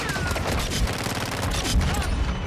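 Rapid gunfire from a weapon in a video game, a dense unbroken fusillade of shots close and loud, with faint talk underneath.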